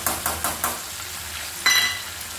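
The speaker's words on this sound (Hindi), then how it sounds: "थोड़ी देर इसको भून के इसका कच्चापन निकाल देंगे।" Ginger garlic paste frying with chicken in a pan for biryani, a steady sizzle broken by several rhythmic scraping stirs early on and a louder burst of hiss near the end.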